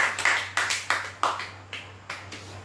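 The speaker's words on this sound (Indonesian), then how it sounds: "Kasih tepuk tangan dulu buat Tuhan kita" A church congregation claps in a slow, irregular series of about eight distinct claps over a low steady hum, moderately distant and fairly quiet.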